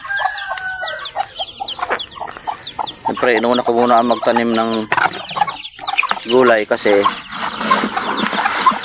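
Chickens cluck and crow outdoors at feeding time with a steady background hiss, while someone talks over them; some wing flapping now and then.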